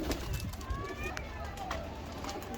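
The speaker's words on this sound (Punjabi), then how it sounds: "ਇਹ ਬਾਦਸ਼ਾਹ ਕਬੂਤਰ ਆ ਜੀ" A Badshah breed pigeon coos and calls among other pigeons, soft throaty notes and short chirps mixed into a busy loft background, with someone talking over it.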